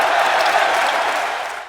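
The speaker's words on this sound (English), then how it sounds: "A stadium explosion." A big stadium crowd roars in a dense, steady wall of noise that stays loud throughout and eases off only slightly at the very end.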